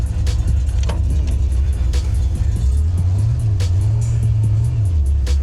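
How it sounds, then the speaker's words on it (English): A classic coupe with a slight engine misfire idles and then drives off, heard from inside the car as a loud low rumble with an uneven throb, rising in pitch as it pulls away, with small rattles and no talking. "she's got a little misfire"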